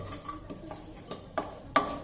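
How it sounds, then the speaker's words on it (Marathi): Two large spoonfuls of poppy seeds dry-roasting over medium heat in a pan, with quiet scraping and stirring and a few louder clicks of a spoon against metal, close and fairly faint. "ही सुद्धा आपल्याला मीडियम गॅसवर 2-3 मिनिटं छान अशी भाजून घ्यायची आहे"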